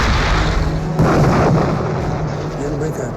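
Rockets from Typhoon aircraft blast into tanks, heavy booming explosions rolling into a sustained loud rumble, with a sharp burst about a second in and a long reverberating tail.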